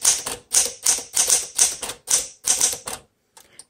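Keys strike the platen of a 1960 Smith Corona Sterling manual typewriter in a run of sharp, close clacks at a steady rhythm, then stop, leaving a few faint mechanical ticks.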